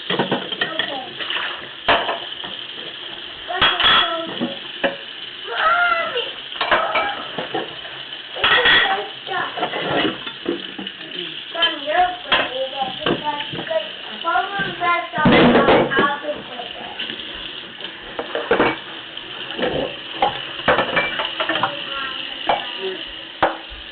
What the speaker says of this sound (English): While that's cooking, what I'll do is the dishes.